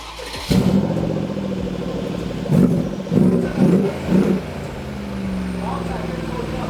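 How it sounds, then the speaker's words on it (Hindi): Exhaust of a 2016 Mercedes-Benz G63 AMG with a 4.0 BiTurbo V8 and twin side-exit pipes, idling loud and close, then four short rising revs, with someone talking over the engine. "ये एग्जॉस्ट काफ़ी लाउड हैं"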